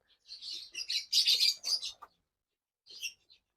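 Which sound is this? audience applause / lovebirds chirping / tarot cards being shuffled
lovebirds chirping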